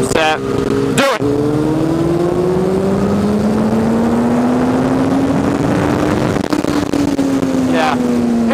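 Engine of a vehicle on an autumn foliage ride accelerating hard in third gear, a loud close drone climbing steadily in pitch for several seconds after a brief gear-shift gap, then leveling off, with wind rush throughout.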